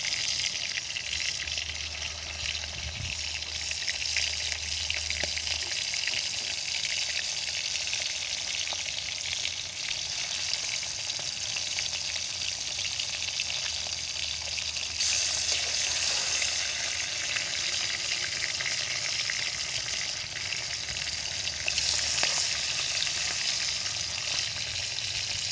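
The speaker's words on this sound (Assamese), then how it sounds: "ৰঙাকৈ ভাজি দিব লাগিব।" Food frying in hot oil until browned gives a steady, dense sizzle that crackles evenly for the whole stretch, close by, with no voices.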